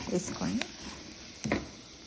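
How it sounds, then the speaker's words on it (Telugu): Cauliflower pieces and masala frying in a pan for aloo gobi, with soft sizzling and a few stirring scrapes around it, while a voice talks briefly over the cooking. "కొంచెం కొంచెం వేసుకుంటూ ఫ్రై చేస్తూ మసాలా అంతా కలిసేటట్టుగా"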